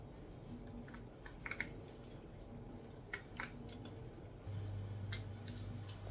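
Old scissors snip through a metal can along a hand-drawn ring, a quiet series of short, irregular clicks and crunches against a low background hum that rises near the end.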